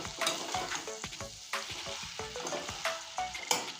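Okra and potato with mustard paste frying in a pan, stirred in quick repeated scrapes over a constant close sizzle, with no voices.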